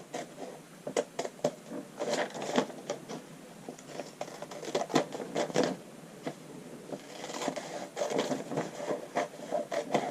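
Scissors cut along the outside edge of a paper notch-collar pattern draft, giving a close, steady run of crisp snips and papery scrapes with brief pauses between strokes.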